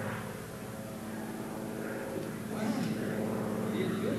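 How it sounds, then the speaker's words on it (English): An airplane in flight gives a steady droning engine rumble that grows slightly louder toward the end, with faint background sounds and no clear speech. "A problem has happened on the airplane."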